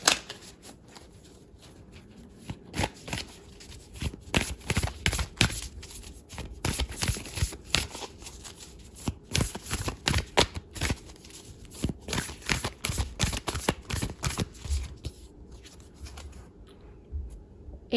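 Oracle card decks being shuffled by hand, a long run of close, crisp riffling and flicking bursts in an irregular rhythm with short pauses between, no voices.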